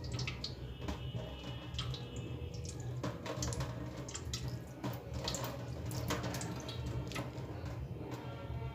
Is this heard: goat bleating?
no